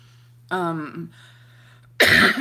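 A person on a live broadcast gives a voiced throat-clearing rasp, falls quiet briefly, then lets out a sharp, loud cough near the microphone over a steady low hum.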